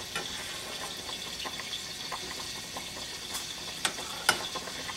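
Cornstarch being stirred into a little juice to make a slurry, a spoon clicking and scraping lightly against a small dish in a steady, close, fairly quiet rhythm, with a couple of sharper taps near the end.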